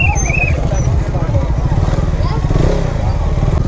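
Motorcycles crowd a busy Mahashivratri temple fair at Mahadev Mandir in Una, their engines rumbling and idling steadily close by under a continuous wash of crowd noise and nearby talking throughout.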